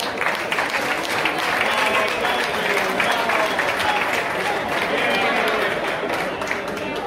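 Audience applause at a golf tournament prize giving, a steady dense wash of many hands clapping that holds loud and even throughout, with crowd noise mixed in.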